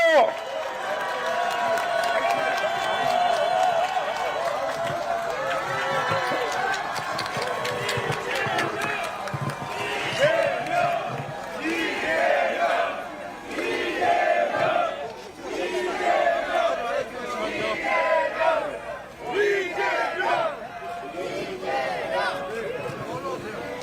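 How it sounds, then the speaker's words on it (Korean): A large outdoor crowd at an election campaign rally roars, cheers and claps in swelling waves, with shouting and chatter mixed throughout and a voice over the noise. "큰 박수로 환영해 주시기 바라겠습니다"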